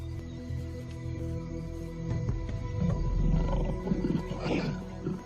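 A lion roars in the wild among hunting dogs and impala, a deep rumbling build that swells and peaks midway, heard alone over open outdoor ambience without any talk.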